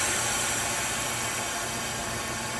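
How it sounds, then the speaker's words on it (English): An Edwards E306 vacuum coater's pump exhaust runs with a steady, loud, hissing mechanical drone. The noise is constant and broadband, with no change in rhythm and no voices. "That loud noise is the pump, the exhaust coming out through the pump"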